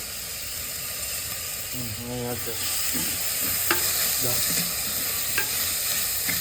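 Crushed shallots and sliced onions frying in a pan for a home-made fish curry, with a steady sizzle and hiss and scattered scraping stirs that grow a bit louder partway through; a few faint tonal scrapes, no talk.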